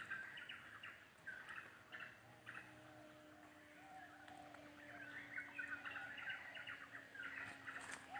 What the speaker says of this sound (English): Get a little more bird sound before we go.